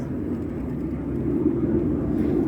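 A low, steady roar of an airplane passing overhead, growing slightly louder toward the end, with no other clear sounds.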